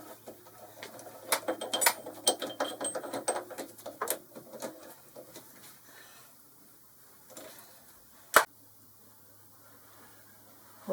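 A 3-jaw chuck being tightened on a tool and cutter grinder in a workshop: a cluster of close metallic clicks and rattles, fading to quieter handling, then one sharp clank near the end.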